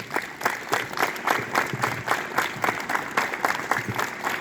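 Students at a school morning assembly clap together in a steady unison rhythm, about two claps per second, loud and close, sustained throughout.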